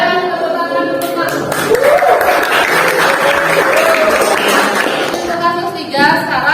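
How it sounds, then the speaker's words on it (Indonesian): An audience in a classroom teaching-assessment session breaks into steady applause, a dense wash of clapping from a small group that carries through, with voices talking over it. "tepuk tangan dulu Pak"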